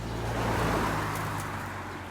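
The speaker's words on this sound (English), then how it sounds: "Mr. Jones is just warning me that a car is coming around the corner." A car approaches around a street corner on a spring walk, a steady broadband road rumble holding for about two seconds with a low engine hum underneath.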